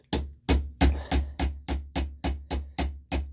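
Solid 3/32 rivets being hand-set with a hammer and a rivet set held in a vise, building up aircraft ribs: eleven sharp, evenly spaced metallic blows, loud and close, with a faint ringing tone between strikes.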